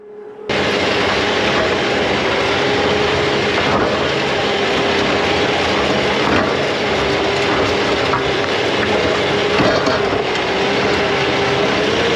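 An LS MT573 tractor engine under heavy load pulling three ripper shanks about 18 inches deep through roots, a loud steady diesel drone with a sustained tonal hum and no pauses, heard from close up.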